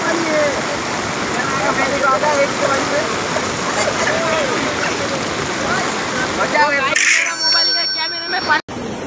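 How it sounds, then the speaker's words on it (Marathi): Dense, constant rush of heavy rain close by in Maharashtra, with people talking beneath it; the downpour cuts off abruptly near the end. "నిన్న ఈరోజు పడుతున్నటువంటి వర్షం వీడియోస్ అండి"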